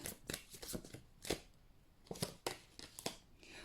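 Tarot cards being shuffled and drawn, heard as quiet, close, crisp riffling and flicking snaps in quick irregular bursts with short pauses and no talk.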